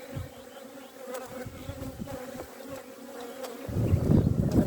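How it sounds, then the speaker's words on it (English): Honeybees buzz steadily around open beehives in an April apiary in Ireland, a close, continuous drone that swells louder toward the end as more bees fly near. "And I can see the bees."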